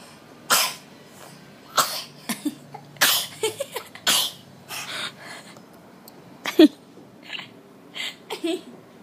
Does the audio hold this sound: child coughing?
yes